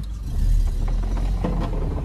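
An Opel Astra H with an automatic gearbox, shifted into drive, creeps forward on its own: a close, low engine rumble holds steady, with a faint mechanical clunk partway through.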